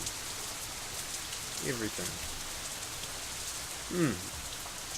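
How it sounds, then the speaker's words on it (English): Steady rain falls in the visual novel game Katawa Shoujo, a soft even hiss in the background as a voice speaks briefly over it. "I wonder what it is about the rain."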